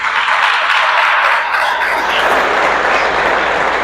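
A church congregation applauds during a women's conference on honour, a dense, steady wash of clapping that stays loud and even throughout.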